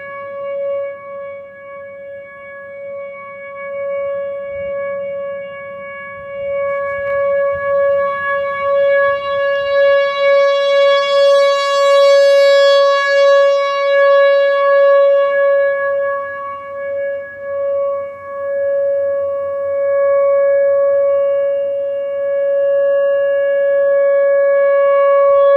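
A tornado warning siren sounds during a test in Effingham, Illinois, a loud, steady tonal wail that holds a sustained pitch and swells slightly as it rotates, carrying alone over faint outdoor background.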